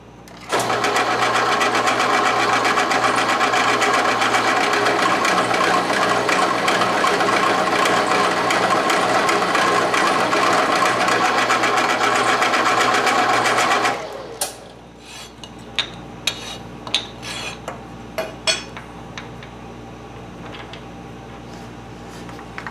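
A South Bend 11 metal lathe squares off the end of a brass piece, a steady loud cutting drone that runs for about fourteen seconds and then stops, followed by scattered clicks and knocks of handling.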